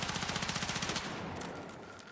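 An M4A1 carbine assault rifle in a video game fires a rapid automatic burst of about a dozen evenly spaced shots, then the gunfire trails off into echo and faint ambient game sound.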